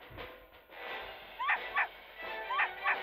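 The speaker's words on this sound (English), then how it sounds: "the dog's here!" A dog in Professor Layton vs Phoenix Wright barks in a few short, sharp yips, two close together then two more after a pause, over a steady game background.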